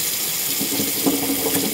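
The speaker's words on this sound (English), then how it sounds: "Last thing, wash my hands" Hands being washed under a running bathroom tap, a steady close splashing hiss of water with slight shifts as the hands move through the stream.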